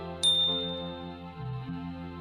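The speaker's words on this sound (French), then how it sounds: "activez la cloche pour ne jamais manquer les prochaines révélations" A single bright notification bell ding rings out with a sharp metallic strike, then its harmonic tones ring on and slowly fade beneath a steady low background hum.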